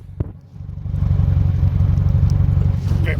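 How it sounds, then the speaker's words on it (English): A 2000 Subaru Forester S Limited with an aftermarket exhaust idles at the tailpipe with a steady, fairly quiet low rumble, recorded close up; a brief knock comes just before the engine note settles in. "And from the back, we'll just give you the exhaust tone."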